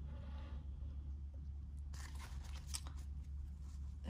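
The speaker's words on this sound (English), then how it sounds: "Let's shuffle and pick a card for the collective." Crisp riffling and scraping of an oracle card deck being shuffled, a quick burst of flicks in the middle over a steady low background hum, no voices.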